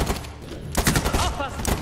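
Rapid bursts of gunfire in Medal of Honor Warfighter at a terrorist training camp, close and loud, in dense volleys with a brief lull before the shooting resumes.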